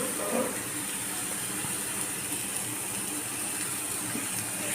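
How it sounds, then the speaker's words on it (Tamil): Ground tomato is poured onto onions in a pan while cooking chicken tikka masala, giving a steady, wet, hissing gush that runs continuously and fairly quietly, with no speech. "வெங்காயத்தை இதிலேயே நம்ம தக்காளி அரைச்சோம்ல அதை ஊற்றிடுவோம்."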